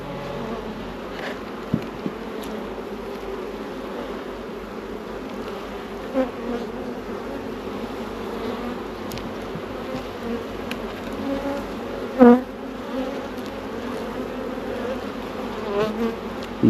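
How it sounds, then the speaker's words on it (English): Dense, steady buzzing of many honey bees around an open hive box full of drawn comb and pollen, close and continuous, with a few louder passes of individual bees flying near. "that's because there's a lot of bees in here."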